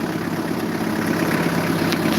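A 1996 compact tractor's engine idles at a small farm-machinery lot, a steady, even rumble close by with no talk.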